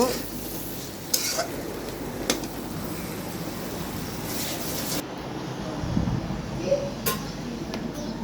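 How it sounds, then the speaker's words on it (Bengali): Potatoes fried and stirred in a pan with spices for a thin shing fish curry, a dense continuous sizzle with occasional clinks and scrapes of the utensil against the pan. "আলুটা আমি পাঁচ মিনিট জন্য কষিয়ে নিব নাড়াচাড়াতে মিক্স করব"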